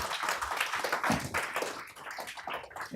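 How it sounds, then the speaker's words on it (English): A conference audience claps for the panelists of a geothermal energy session. Moderately sized applause with distinct individual claps rises and dips unevenly throughout. "Please give them a nice round of applause to get them warmed up."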